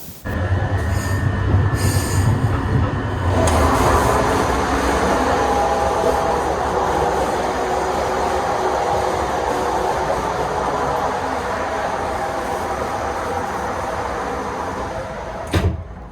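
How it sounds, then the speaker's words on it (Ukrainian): Loud rumbling noise between moving carriages of a Skoda EJ 675 electric train, with rattling and metallic squeal; a door clatter early on, continuous roar throughout, no talking. "Коли ти переходиш між вагонами, через відсутність звукоізоляції видається дуже неприємний звук."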